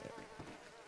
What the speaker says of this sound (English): Why is there so many bees?